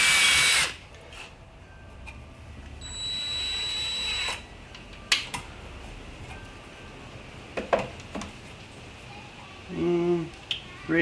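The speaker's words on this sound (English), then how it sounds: "gonna go ahead and drill out these holes" A power drill whirs in short bursts, drilling holes in a cracked kayak paddle during a repair, with clicks and small tool clatter between runs, close and fairly loud.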